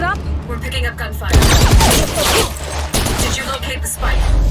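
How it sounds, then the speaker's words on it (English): Gunfire from the Valorant video game cinematic cracks in rapid bursts and fusillades with booms, loud and close, mixed with mechanical noises. "We're picking up gunfire."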